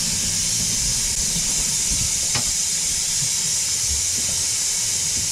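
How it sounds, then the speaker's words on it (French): Steam hisses steadily from a pasta pot on a gas stove in a boat's galley, a constant broadband hiss running throughout with faint low rumbling underneath and one brief click. "t'as un vapeur partout."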